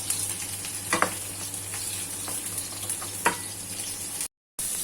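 Ginger sautéing in a wok-style pan after the fried tofu has been lifted out, giving a steady close sizzle with a few sharp spatula clicks and scrapes, then a brief cut to silence near the end.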